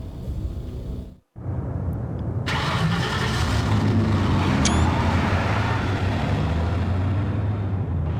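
A car in the Max Payne video game starts up after a brief silence, then its mid-pitched engine runs steadily and fairly loud, idling and revving with a continuous rumble.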